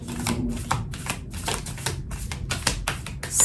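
Tarot cards being shuffled at close range, a rapid flurry of crisp riffling and flicking bursts repeating steadily without talk.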